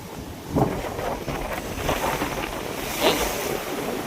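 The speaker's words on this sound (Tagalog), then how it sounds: "Ang lalaki ng alon." Big ocean waves surge and crash in a steady roar, with gusting wind buffeting the microphone and a couple of heavier breaking swells.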